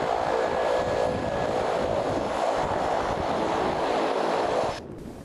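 A ski plane flying across the stormy Denmark Strait to East Greenland, its engine and propeller making a loud, continuous roar with a steady hum, which drops off abruptly just before the end.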